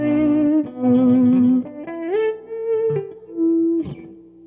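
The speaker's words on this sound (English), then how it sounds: "do you know how to achieve a violin-like tremolo effect on the guitar?" Electric guitar played through distortion and effects, rising in violin-like tremolo swells. Sustained, loud, bending notes with reverb, heard alone and without voices.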